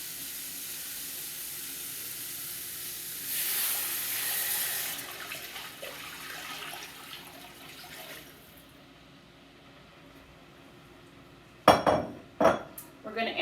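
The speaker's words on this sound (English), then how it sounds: "We're going to add 8 cups of cold water." Cold tap water pours into a pot with a broad hiss for several seconds, fading away, followed by a few sharp metallic clinks of the pot near the end.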